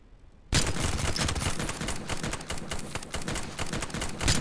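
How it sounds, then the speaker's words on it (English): Sustained automatic gunfire erupts suddenly in a survival shooter game, loud and close, with rapid overlapping shots that go on continuously after a brief quiet start. "Who else is shooting at me?"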